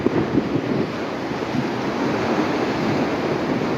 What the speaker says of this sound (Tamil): அங்கே ஒரு அலை ஒன்று வருது.